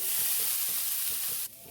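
Grated coconut roasting in a hot pan, a steady close dry sizzle with soft scraping and stirring that drops quieter near the end.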